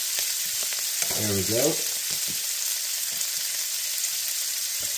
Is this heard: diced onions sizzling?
yes